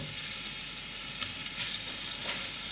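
Chilies and green peppers sizzle steadily in hot oil over already-fried spices for pork vindaloo, a continuous close frying hiss with a few brief crackles and pops and no talking.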